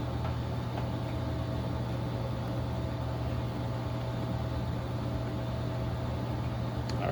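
An Evergreen Chia crypto miner runs with its fourth hard drive fitted, giving off a steady low electrical hum and fan drone that holds level throughout, with no talk over it.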